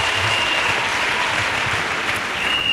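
A church audience applauds steadily in acclamation for Jesus Christ, a dense, continuous wash of clapping hands that holds evenly throughout with no voices rising above it.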